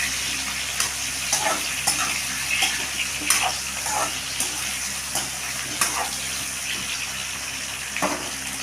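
Raw mango pachadi is stirred in a pan, with a soft wet sizzle under scattered spoon scrapes and knocks at an irregular rhythm, close and moderately loud.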